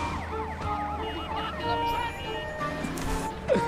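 Ambulance siren wailing in a GTA video game, a rising and falling electronic tone running steadily throughout with game sounds around it and a brief sweep near the end.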